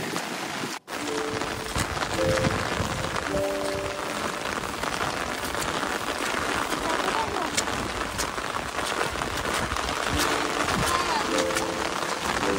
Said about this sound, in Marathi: ते पाऊस येईल असं वाटलं नव्हतं.